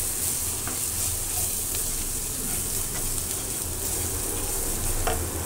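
Ground coriander, chili powder and turmeric fry in hot oil in a pan for a fish and eggplant curry, a close, steady sizzle with scraping stirs and a few sharp clicks, no voices.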